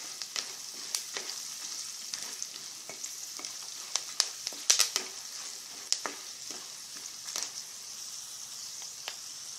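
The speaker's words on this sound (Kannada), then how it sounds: "ಜಜ್ಜಿಟ್ಕೊಂಡಿರೋ ಬೆಳ್ಳುಳ್ಳಿ ಹಾಕಿ ಸ್ವಲ್ಪ ಚೆನ್ನಾಗಿ ಫ್ರೈ ಮಾಡ್ಕೋಣ" Crushed garlic and dried coconut pieces frying in a pan for garlic mandakki, a steady close sizzle broken by sharp crackles and the scrape of a spoon stirring, with no voices.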